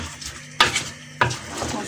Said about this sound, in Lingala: nakobalola poulet na ngai po ba ingrédients na ngai nyonso ekota na kati ya poulet